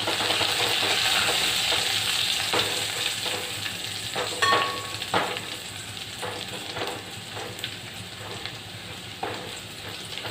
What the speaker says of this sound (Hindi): और साथ में मैं ये कड़ी पत्ते डाल देती हूँ।